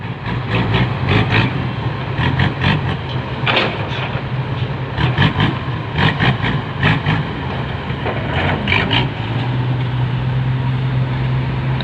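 A tractor's diesel engine labours loudly and continuously while pulling a dump truck stuck in mud at a canal-side earthworks, with repeated surging bursts and clanking over a steady drone.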